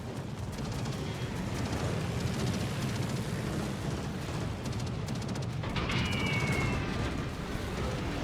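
Naval guns fire at the cruiser Worcester in the game World of Warships, a dense, continuous rumble of booms and blasts with little letup.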